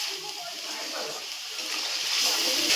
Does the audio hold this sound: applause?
no